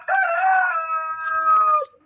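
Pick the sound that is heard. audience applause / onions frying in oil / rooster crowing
rooster crowing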